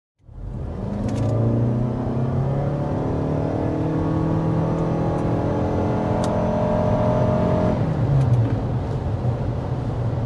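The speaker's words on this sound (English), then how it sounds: "off to the races with the RAV4 Hybrid" A 2025 Toyota RAV4 Hybrid, with a 2.5-liter four-cylinder engine and three electric motors, accelerates hard. Its engine drone climbs steadily in pitch for about seven seconds, loud and close and heard alone, then eases off.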